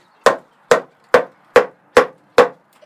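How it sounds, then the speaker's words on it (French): Seven sharp, evenly spaced blows of a baton driving a knife with a 40 cm blade through a thick log at a cabin, each a loud woody knock, close and alone with no talk. "c'est vraiment la taille maximale qu'on peut bâtonner avec ce couteau"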